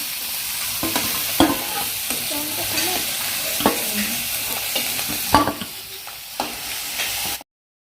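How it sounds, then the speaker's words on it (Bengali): Steady oily sizzling of giant freshwater prawns frying in a pan, with a few sharp clinks and scrapes of a utensil stirring, continuous and close. "তো চিংড়ি আমাদের ভাজা হয়ে গেছে"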